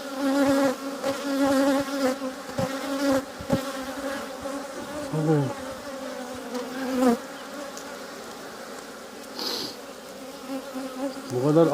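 A swarm of honey bees buzzes loudly and close around double-story hives, a rich droning hum with individual bees passing near, and a few knocks and handling sounds.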